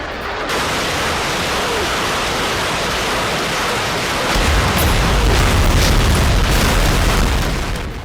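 A loud, deep rumbling blast from a kamikaze drone strike on a Ukrainian naval ship in Odesa, a broad roar that swells and thickens in the low end midway, with no voices over it.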